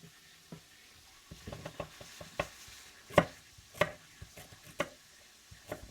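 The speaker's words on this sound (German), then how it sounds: "Einfach in Scheiben geschnitten, sodass das alles immer die gleiche Größe hat vom Fleisch" A knife cuts meat into even slices on a board for Polish bigos, giving a series of soft, irregular chopping taps with a few sharper knocks, close and fairly quiet.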